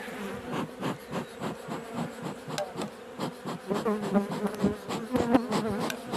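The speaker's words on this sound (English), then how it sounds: "Bees bouncing all over me." Dense buzzing of many honeybees swarming close by around a hive, a steady droning hum with scattered louder passes and light knocks.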